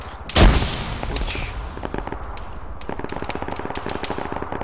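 Gunfire in the video game Arma 3 opens with one sharp, loud close shot, and then a long run of quicker, fainter shots rattles on rapidly.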